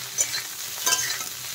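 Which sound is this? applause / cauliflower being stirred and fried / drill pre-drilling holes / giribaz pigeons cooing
cauliflower being stirred and fried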